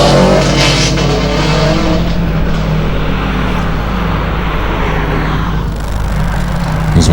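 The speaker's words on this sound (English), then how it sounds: "As we see the Simon Field car making its way around the chicane." A hillclimb race car works its way around a chicane, its engine roaring loud and steady, easing slightly in the middle before rising again near the end.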